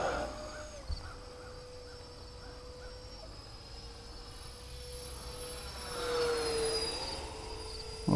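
A radio-controlled model A-10 Thunderbolt II jet flies overhead, its thin turbine whine steady and fairly faint, swelling briefly as it passes closer.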